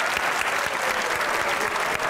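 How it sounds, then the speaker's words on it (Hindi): Steady applause from a TV comedy show's studio audience fills the whole stretch, dense and even, with no voices rising above it. "थैंक यू ताली बजाने के लिए"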